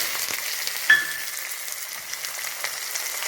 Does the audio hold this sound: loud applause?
no